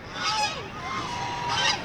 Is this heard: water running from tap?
no